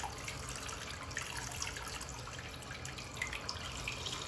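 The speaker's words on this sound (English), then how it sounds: "find like a good temperature that I can run her under to rinse off all the soap and stuff" Tap water runs steadily into a sink to rinse soap off a pet hedgehog, a soft continuous splashing stream with light drips, close and moderately quiet with no talk.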